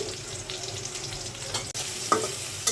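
Chopped onion and garlic frying with cumin seeds in a pan while being stirred, a continuous sizzle with occasional utensil scrapes and a sharp clink near the end.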